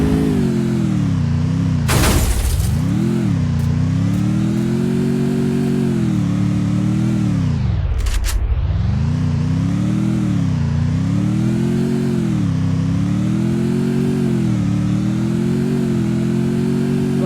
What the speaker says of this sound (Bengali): বাইকটা নিয়ে ওখান থেকে চলে যাই।